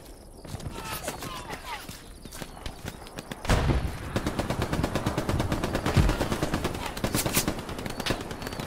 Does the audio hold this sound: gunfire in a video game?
yes